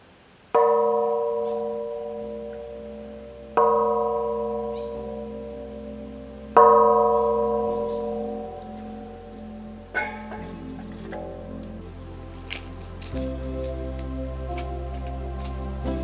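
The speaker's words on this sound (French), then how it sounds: "on va faire sonner la cloche quand même" A temple bell on a hillside stairway in U Thong, Thailand, struck three times a few seconds apart, each ringing tone slowly decaying, followed by a softer strike and a low steady hum.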